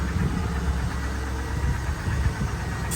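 1999 Camaro Z28 engine ticking after a cold start: a steady idle with fine, rapid ticking and light vibration, close and continuous throughout, no talk.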